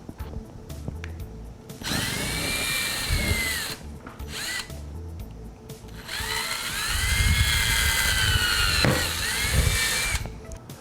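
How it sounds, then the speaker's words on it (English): Power drill boring holes in a wooden boat sign with a bit sized for C7 light bases, whining in bursts of a few seconds separated by short pauses. "now it's time to drill out the holes"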